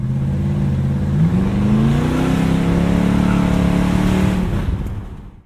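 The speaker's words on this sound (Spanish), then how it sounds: "Aquel sonido pertenecía al Pontiac GTO." A Pontiac GTO muscle car's deep, thunderous engine roar, loud and close, rising in pitch as it revs up and holds steady before fading out at the end.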